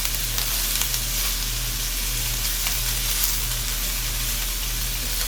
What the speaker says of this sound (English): I'm adding in some Cajun sausage, some Vienna sausage.